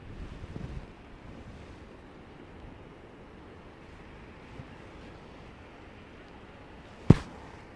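A blustery north-westerly wind rumbles steadily across the microphone at Heathrow Airport during Storm Darragh, a low continuous roar with a stronger gust at the start and a sharp knock near the end.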